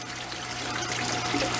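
Water trickles and splashes steadily over a small aquarium waterfall, a continuous close rushing wash with no talk.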